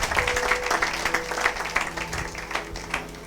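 A church congregation applauding during a sermon, a steady dense patter of many hands clapping with rhythmic swells, with faint voices mixed in underneath.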